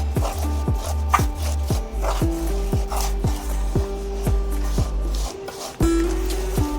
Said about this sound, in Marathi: आता हे सर्व मिश्रण आपल्याला यामध्ये टाकायचं आहे. सर्व जिन्नस छान असं मिक्स करून घ्यायचं आहे आपल्याला.